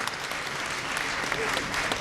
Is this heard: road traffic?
no